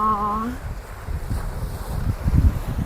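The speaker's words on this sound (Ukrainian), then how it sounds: "Ох, вітер, які хвилі." Low rumbling wind buffets the microphone on a fine-pebble beach in Kotor, Montenegro, with surf churning underneath; a brief tonal sound opens the clip before the wind gusts dominate.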